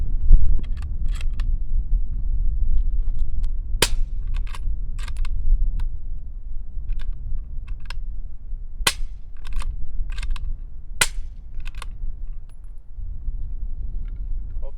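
A 300 Blackout rifle fires hand-loaded rounds, a series of sharp, loud single shots at irregular intervals over about fifteen seconds, separated by lighter clicks and clatter of the action cycling and ejecting cases.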